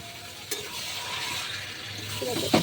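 Chicken kosha spice mixture being stirred in a frying pan, a steady low sizzle with soft scraping strokes of the spoon and a couple of sharper clinks near the end, close and moderately quiet.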